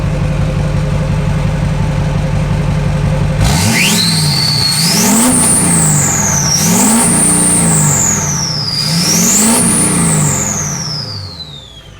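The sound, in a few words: Duramax diesel engine revving in swapped K20 truck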